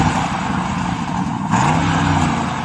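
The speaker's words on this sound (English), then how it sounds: "Go on then, rev at the Bentayga" A Bentley Bentayga SUV engine idling loud and close, then blipped with a rising rev partway through, throaty and steady with no voices.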